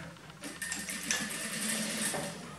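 A sewing machine runs a seam joining the stitching to a garment lining, a steady continuous mechanical whir with no talking.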